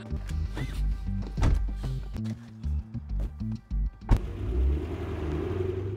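Car engines rev and surge in short bursts, followed by a thump and a steady rolling drive noise.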